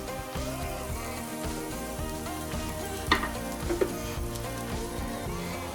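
Garlic and onion fry in a tablespoon of butter over medium-high heat, a steady sizzle under tonal background music, with a couple of sharp utensil clinks partway through.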